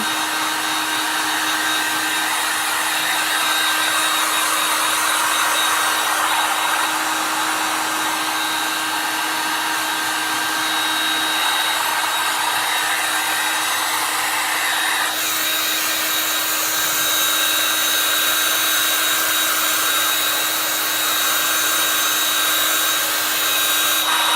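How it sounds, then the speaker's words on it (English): A heat tool blows hot air on a delicate flower shadow box craft, a loud, steady whooshing hum that continues unbroken throughout with a slight shift in tone partway. "Probably could get my higher potent heat tool here."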